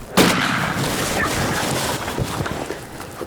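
A single loud shotgun blast during a spring turkey hunt in windy open country, a sharp crack near the start with a long rumbling decay that fills the rest of the moment, with no talk over it.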